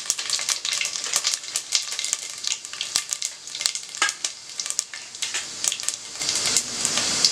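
Whole spices (cumin, fennel, cinnamon, cloves, cardamom) crackle and sizzle in hot oil and ghee, a busy spattering hiss with sharp pops scattered throughout, close and fairly loud.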